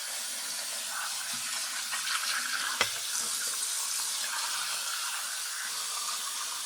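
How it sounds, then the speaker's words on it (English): Running tap water streams steadily over a pompano fish being rinsed, a constant hissing splash with one brief knock partway through and no talking. "now we're going to clean it with running water"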